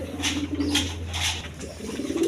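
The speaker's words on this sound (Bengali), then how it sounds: "দশমিনে এখানে এক পেয়ার কবুতর আছে হাই ফ্লাইং গিরিবাস কবুতর" High-flying Giribaz pigeons, a crossbred pair kept with two chicks, give soft low cooing in a steady run of calls close by, with faint higher chirps above.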